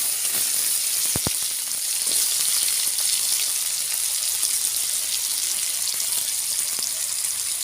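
Tomatoes cooking with cauliflower in a pan with cumin seeds make a loud, constant bright sizzle that crackles evenly throughout, with a couple of sharp utensil taps early on.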